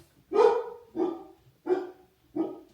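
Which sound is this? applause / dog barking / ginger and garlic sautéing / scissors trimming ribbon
dog barking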